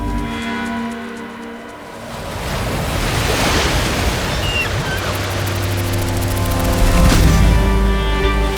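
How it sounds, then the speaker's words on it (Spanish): Wind blowing steadily over the Bosphorus strait, with a broad, continuous rush of air and surf-like wash that swells slightly partway through and stays loud throughout. "Sopla el viento sobre el Bósforo"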